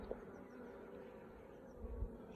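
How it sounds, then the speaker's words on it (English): A steady, low insect buzz from many honeybees being shaken into a new hive box hums continuously, with a couple of soft knocks and bumps near the end. "So shake the bees in the box."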